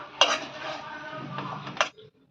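A metal spoon stirs flattened rice (poha) in a kadai, with clinks and scrapes against the pan and a brief louder knock near the end before it falls quiet.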